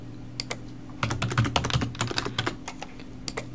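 Quick clicking keystrokes on a computer keyboard as a new password is entered, a dense burst of taps in the middle with scattered presses before and after, close and clear over a low steady hum with no talking.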